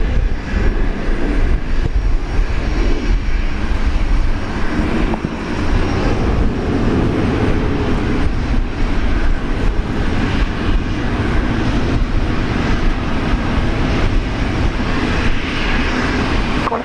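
A jet airliner taxis past at Brisbane Airport, its engines a loud, continuous roar and whine that stays strong and steady throughout, with no talk over it.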